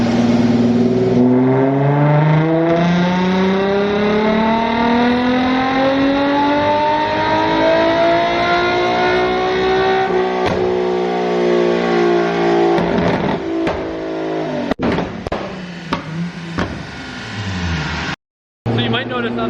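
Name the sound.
Nissan 350Z accelerating with nitrous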